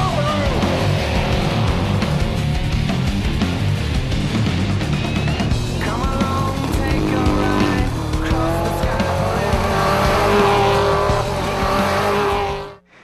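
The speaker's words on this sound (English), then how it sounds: "Now that is some racing." Race cars roar at speed around a track with tire squeal and skidding, a dense, loud, continuous engine wash with rising and falling whines throughout before cutting off at the end.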